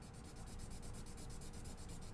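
A number 2 pencil rubs steadily over paper to smooth coloring in a drawing, a soft continuous scratchy rasp with a faint back-and-forth rhythm, close and quiet.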